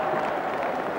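A Swindon Town football crowd at a stadium against Millwall gives a broad, steady roar of cheering and applause, filling the whole moment.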